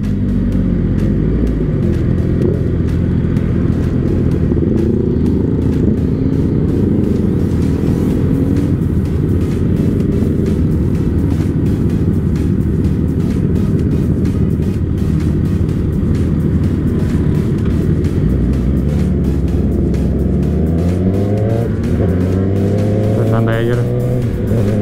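A Suzuki GSX-R600 motorcycle engine drones loudly and steadily while riding, with rising and falling revs and constant wind and road roar, as a rider talks over it throughout.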